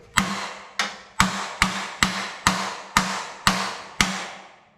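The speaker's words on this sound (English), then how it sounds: "I'm gonna go grab a hammer and we'll beat that bumper in." Nine sharp metallic hammer blows strike a riding mower's metal bumper at a steady pace, each ringing briefly before the next, close and loud with no talking.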